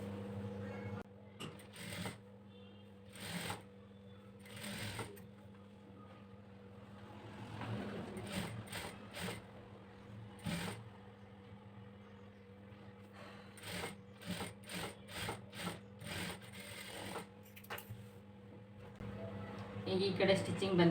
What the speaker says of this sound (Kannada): ಇವಾಗ ನಾನು ಇದಕ್ಕೆ ಕೆಳಗಡೆ ಫಸ್ಟ್ ಸ್ಟಿಚ್ ಹಾಕೋತೀನಿ